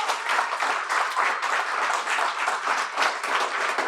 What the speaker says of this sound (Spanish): Si va a aplaudir, apláudele fuerte.